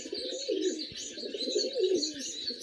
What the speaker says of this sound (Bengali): পুরো ড্রাগন শেপের পায়রা